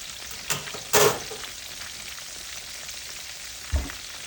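Fish frying in hot oil for a Southern fried fish meal gives a steady low sizzle, broken by a few louder bursts of crackle near the start and one more toward the end.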